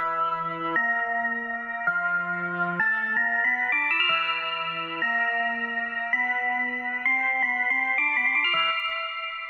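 A Hammond organ layered with an eerie synth patch on a progressive rock song, playing a slow chromatic melody of sustained, bright tones with a slight shimmering effect, steady and upfront without any voices.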